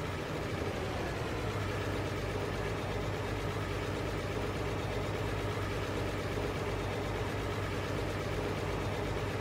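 A tractor engine in the Farming Simulator 22 video game runs steadily at a constant drone with no change in pitch or loudness, heard alone with no talking.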